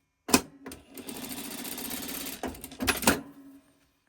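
A sewing machine stitches quilt pieces for a Christmas tree block with a 1/4 inch seam, sounding as a short, close, rapid mechanical chatter of about two seconds, framed by clunks as it starts and stops, with no talking.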